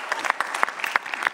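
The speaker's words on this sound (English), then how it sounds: "giant round of applause, a few cheers and whistles if you like" Audience applause at a conference panel opening the final session of IBC 2018: a short run of distinct, sharp claps from a crowd, moderately loud and close, with no voices on top.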